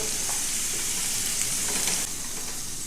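Crispy pork strips deep-frying in hot oil give a dense, steady sizzle and crackle close up. It eases slightly toward the end, with no voices.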